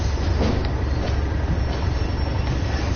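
A train in the video game Train Sim World 2020 rolls along in a steady, loud, continuous rumble of wheels and engine, with no talking over it.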